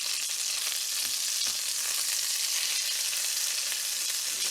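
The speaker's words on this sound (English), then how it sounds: "So I'm gonna go ahead and flip these over." Freshly flipped 80-20 ground beef hamburger steaks frying in a pan, a dense, continuous hissing sizzle held steady and close throughout, with a couple of faint low knocks.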